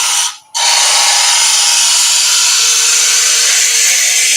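A woodturning lathe cuts wood as the inside of a turned piece is tidied up, giving a steady, loud, broad scraping hiss that runs almost without pause after a brief gap at the start.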